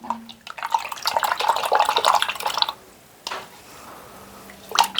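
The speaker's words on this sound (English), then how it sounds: "Now we're going to clean our brush." Paintbrush being rinsed and swished in a water jar during watercolor painting, with close, continuous splashing and dripping for a few seconds, then a pause and another brief splash near the end.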